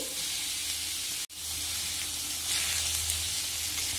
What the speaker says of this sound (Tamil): எண்ணெய் சூடாயிருச்சு இப்போ பெரிய வெங்காயம் இந்த மாதிரி லைட்டாக கலரி விட்டுக்கோங்க